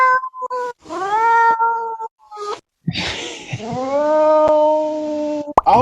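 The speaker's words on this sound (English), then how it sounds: "Aldean downloads the cat sample and drops it into the sampler in Ableton" A loaded cat meow sample rings out in a software sampler, repeated as several long, loud, tonal meows with gliding pitch, each played alone with short gaps between them.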